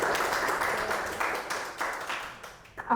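Audience applause for a student president at Politeknik Hasnur, a steady wash of clapping that fills the whole stretch and thins toward the end.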